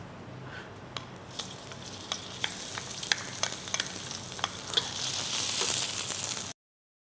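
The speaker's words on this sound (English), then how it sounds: "And I'm going to throw in the shallots." Shallots frying in oil in a pan, with a crackling sizzle that starts as scattered pops and grows into a louder, denser hiss.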